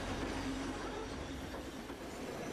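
A train rumbles along steadily with a constant low roar and faint rattling of the carriages, no voices, just continuous travel noise.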